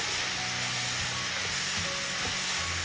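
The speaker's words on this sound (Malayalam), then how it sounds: "ഇതിലേക്ക് രണ്ട് കപ്പ് ക്യാബേജ് ഇതുപോലെ നീളത്തിൽ അരിഞ്ഞെടുത്തതാണ്" Two cups of long-shredded cabbage sizzle steadily in a hot pan, a loud continuous frying hiss broken by soft stirring scrapes, with no talk.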